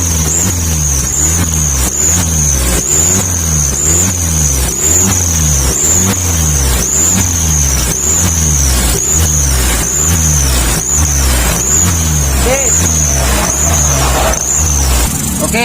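Mitsubishi Colt Canter truck engine fitted with a fake turbo, revving in loud repeated pulses with a steady whistling hiss riding over the low engine rumble, close and continuous with no talk.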